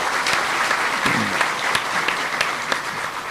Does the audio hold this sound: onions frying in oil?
no